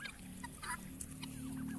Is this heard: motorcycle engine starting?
no